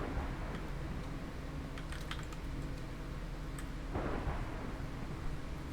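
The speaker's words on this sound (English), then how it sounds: "It's a lot of lightning." Lightning and thunder from a Minecraft game rumble as a steady low roar under a brief crackle of sharp strikes. The storm swells again near the end, and no voice speaks over it.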